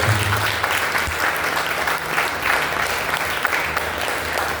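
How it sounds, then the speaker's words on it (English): Applause welcoming a speaker at a university campus event, a roomful of students clapping continuously and evenly, fairly close, with a low hum underneath. "with the rounded tenor of applause, I will welcome Mr. Samuel Ofori."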